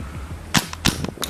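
A modified PP-2K gas blowback airsoft rifle firing BBs: three sharp, snappy reports with smaller mechanical clicks between them, close and dry, with no talking.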